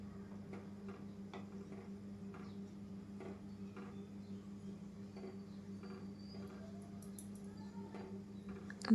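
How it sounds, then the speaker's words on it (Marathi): Mustard seeds crackle in hot oil for sambar, a quiet series of sharp pops and ticks scattered irregularly over a low steady hum, each crackle brief and fairly faint. "राई तडतडतंय"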